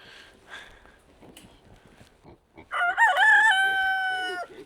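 A homestead chicken clucks faintly at first, then a rooster lets out one loud, close crow with a rising and falling wavering pitch lasting nearly two seconds.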